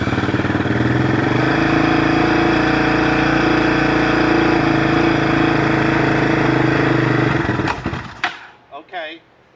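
A Yamaha Raptor 660R quad engine, just back together after an overhaul, runs loud and steady close by with a droning idle, then is cut off near the end, followed by brief talk.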